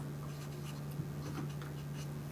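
Pen writing on an exam answer sheet, soft scratchy strokes over a steady electrical hum, faint and close with no voices.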